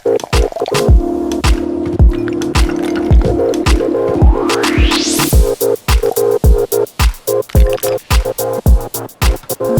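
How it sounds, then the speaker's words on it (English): Sparkling lemon water poured over fresh crushed ice for an elderflower collins mocktail, a close liquid stream with rising fill and crackling fizz, then sharp rhythmic ice-crackling pops. "Pour it over fresh crushed ice and top with sparkling lemon water."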